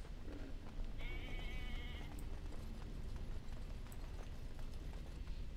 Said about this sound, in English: Why do they keep goats in here?